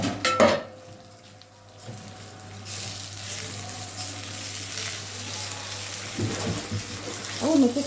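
Washed, drained rice goes into a pot of browned onions, with a clatter of utensils followed by a steady, close sizzle of frying as it is stirred, and a few more metallic scrapes near the end.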